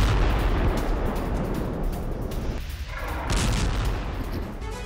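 Explosives blowing up tunnels and a weapons warehouse in southern Gaza during an Israeli army operation, heard as a dense, continuous rumble of blasts and booming detonations, loud and sustained throughout with no talk.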